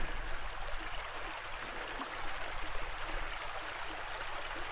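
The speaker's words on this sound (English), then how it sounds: "You can see a lot of water flowing out of there now." A strong stream of rainwater gushes from a drain outlet, a dense, unbroken watery rush heard up close without talk.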